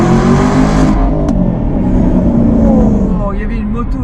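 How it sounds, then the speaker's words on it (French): Aston Martin V8 Vantage with a naturally aspirated V8 revving loudly up close, a deep throaty roar that swells and then eases off, with people talking over it. "le bruit d'un V8 atmosphérique est quand même toujours spécial"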